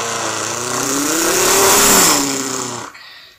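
A voice imitates an old, beat-up car engine with a rough, buzzing drone that swells, wavers in pitch like revving, then cuts off abruptly near the end.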